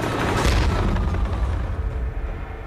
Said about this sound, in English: anti-tank mines need to make a bigger bang